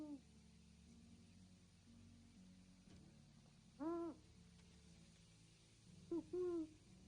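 Two hoots from an owl in the video game Medieval Dynasty at a moderate distance, a single call followed later by a double one, over a low steady hum.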